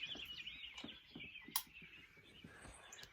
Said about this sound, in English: we're just going to hear the birds